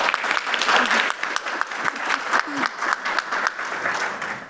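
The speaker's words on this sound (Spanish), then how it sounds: "Un aplauso." A conference audience at a health summit panel claps in a steady, moderately loud round of applause, with a few faint voices underneath.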